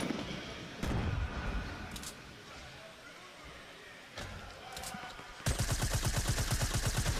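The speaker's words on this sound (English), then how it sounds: "why is he using an SMG there? It's because he's trying to break through that wall because he's low on AR ammo" Fortnite SMG fire hammers at a built wall: scattered shots and impacts, then a fast, loud, sustained burst of rapid-fire shots, with game sounds and a commentator's voice underneath.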